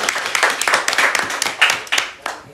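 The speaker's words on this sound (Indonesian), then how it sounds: "Tepuk tangan dulu buat Wawan." Applause for a student leader at an informal campus talk session, a small group clapping loudly and raggedly with sharp, uneven hand claps, close by, for a couple of seconds.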